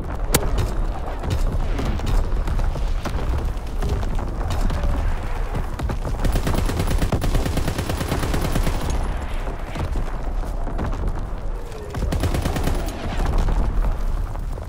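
Primary artillery battery fire in a video game, a dense sustained barrage of loud booms and rapid gunfire rolling on without pause, heavy and close, with no voices.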